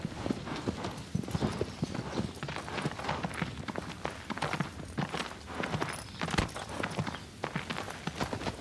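Steady clip-clop of horse hooves at a brisk rhythmic gait in the video game Shadow of the Colossus, close and moderately loud, continuing without pause.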